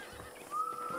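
A horse whinnies briefly in Red Dead Redemption, a short, fairly close neigh over a steady ambient background, with no talking.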